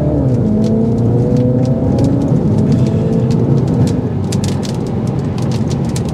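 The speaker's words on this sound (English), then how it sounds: "Now, you will hear a lot more road noise" A 2024 Mini Cooper two-door John Cooper Works on upgraded wheels and performance tires, with loud, continuous road and tire roar filling the cabin, the engine note rising and falling underneath, and no talking.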